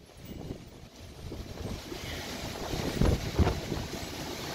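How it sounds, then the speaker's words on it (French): A strong outdoor wind rushes and buffets the microphone, building gradually with a pair of heavier gusts midway and no speech. "vite fait une image du vent qu'il y a eu jeudi."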